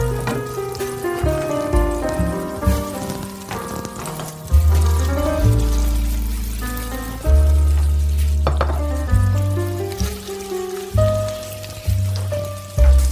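Stuffed meat or dough fingers sizzle in butter and vegetable oil in a pan, a steady crackling fry that continues under background music with no talking.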